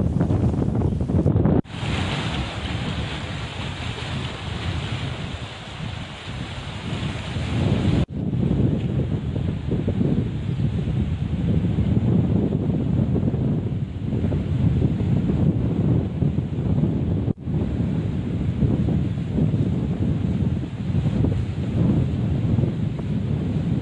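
Godavari river surging in spate after heavy upstream rains near the Pochampad project: a loud, steady broadband roar of rushing water, continuous apart from a few brief cuts, with wind buffeting the microphone.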